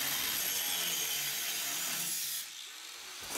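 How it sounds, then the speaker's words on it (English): A metal pipe has its back end sawn off by hand, giving a steady, close, rasping cut that runs for a couple of seconds before dropping away to quieter scraping at the end. "Then I'll just cut the back end off and I'll have all the material I need."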